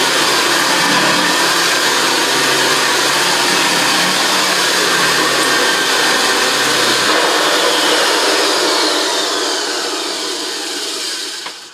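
A refurbished vintage JaxVax Senior upright vacuum cleaner runs steadily, a loud continuous motor whine and airflow roar with a low rumble from the floor, easing slightly toward the end.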